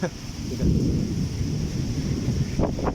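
Heavy rain and deep rumbling thunder blend into a steady wash of noise, with wind buffeting the microphone throughout.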